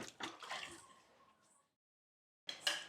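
Water is poured at home in a few splashing, trickling bursts. The flow stops, leaving a brief silence, then another close pour splashes in.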